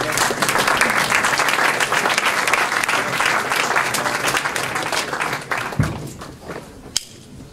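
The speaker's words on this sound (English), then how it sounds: "Please everyone come to the front and a round of applause." Audience applause fills a panel discussion room at an OuiShare Berlin event on the collaborative economy, steady and dense clapping that tapers off near the end, with a few louder thumps.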